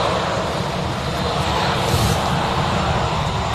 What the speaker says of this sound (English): The TUI Dreamliner that's taxiing out